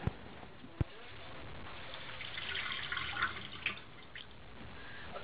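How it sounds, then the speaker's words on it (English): Cold tap water runs over pohe (flattened rice) being washed in a strainer, a soft steady splashing with a couple of sharp knocks early on, fairly faint. "I need to wash my pohe under running cold water."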